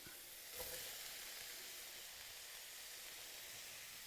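Cut potatoes and carrots go into a pan of onions already frying, giving a steady, close sizzle and hiss throughout with a brief louder burst near the start as the vegetables land.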